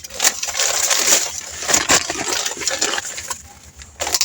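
Garlic bulbs are dropped into a paper bag, making crinkly paper rustles and dull knocks that come in close, uneven bursts.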